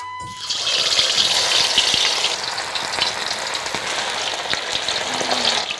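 Kamju pitta (quail) frying in hot oil in a Telugu hotel kitchen, giving a loud, steady sizzle that goes on without a break. There is no speech.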